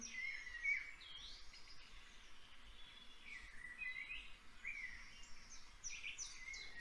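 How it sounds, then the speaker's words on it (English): Common wild birds in the UK sing and chirp outdoors, with several bright, overlapping calls at a moderate distance over a faint, quiet background. "that's a recording of common wild birds in the UK"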